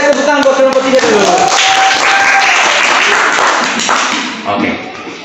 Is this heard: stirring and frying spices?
no